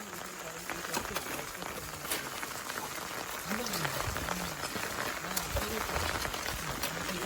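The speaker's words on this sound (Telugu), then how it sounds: "ఎటు వర్షం ఎక్కువైంది అన్నో అన్న, ఘోరంగా ఉంది వర్షం పరిస్థితి." Heavy rain pours down at night in a dense, continuous drumming hiss, with faint voices in the background.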